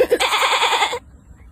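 A voice imitates a goat, giving a quick series of about eight wavering bleats in one close, loud burst that stops abruptly into near silence.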